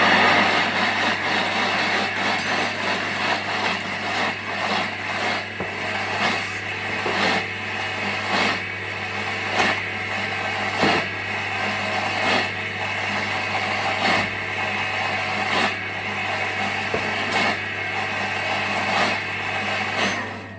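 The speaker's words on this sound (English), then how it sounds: "we're gonna mix this up. So that is 20 seconds," A Thermomix blends basil pesto at speed 7 for about twenty seconds, giving a steady loud motor whir that holds evenly throughout with no talking.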